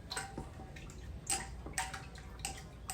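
Spoon stirring thick 30-day cake batter on day 10, scraping sugar from the bowl's sides: soft, close scrapes and light knocks come in a steady, uneven rhythm with no voices.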